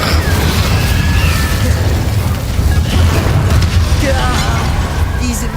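Booming fiery spell blasts, Confringo and Incendio, in the Hogwarts Legacy video game, a loud continuous rumble of explosions with crackling bursts. A voice speaks over the din.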